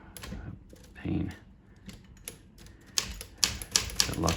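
Keys clack on a Smith Corona Silent Super typewriter in uneven bursts, close and moderately loud, with mechanical clatter and a few stronger strikes toward the end.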